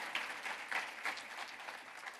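Audience applause at a Moms for Liberty summit in Washington, D.C.: a continuous, moderately distant round of clapping from a crowd, steady throughout with a few sharper claps standing out.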